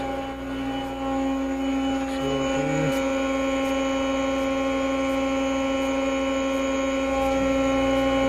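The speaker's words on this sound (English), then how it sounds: "I'm going to start the hydraulics on the AccuPress." Hydraulic pump on an AccuPress press brake starts up and runs with a steady, loud mechanical hum and whine that holds constant throughout.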